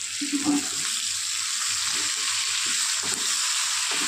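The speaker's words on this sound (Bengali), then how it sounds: "এটা এবার পেঁয়াজটা ভাজা করে নেবো।" Chopped onion frying in a pan for a spicy Bengali swarputi fish curry with mustard and poppy seed, a steady close sizzle running throughout with faint stirring and clinks.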